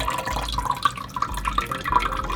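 Coconut milk drips and trickles from coconut shreds wrung out by hand in a t-shirt, a steady patter of small liquid drops close up with no talking.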